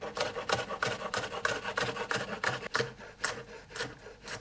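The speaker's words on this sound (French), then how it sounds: "des petites cébettes que je vais hacher" A knife chopping spring onions on a board, a rapid regular series of crisp scraping cuts, close and fairly quiet with no talk.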